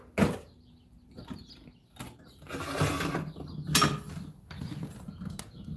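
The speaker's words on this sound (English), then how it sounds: "Let me shut my door." A door being shut indoors, heard as a creaking, mechanical clatter with a couple of sharper knocks near the start and middle, fairly close and alone without talk.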